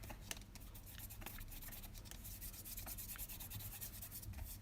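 Finger rubbing to burnish craft paper during cardmaking, a faint, steady scratchy friction with quick repeated strokes, close and quiet, no voices.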